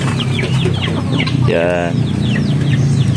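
Upgraded native chickens clucking just after feeding on a farm, busy overlapping clucks and chirps close by with one louder drawn-out squawk in the middle, over a steady background murmur and a brief spoken word.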